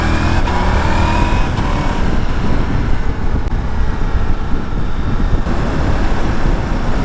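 A 2021 Ducati Multistrada V4 S motorcycle ridden on the road, a loud steady engine drone mixed with heavy wind rumble throughout, close and continuous, with no speech.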